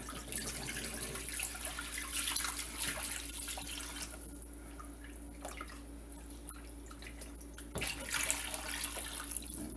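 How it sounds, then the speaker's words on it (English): Brine mixture poured into a container while cooking a St. Patrick's Day dinner, a steady watery splashing stream that is moderately close and continues for several seconds with small dripping and clinking sounds. "Now we'll go ahead and add our brine mixture."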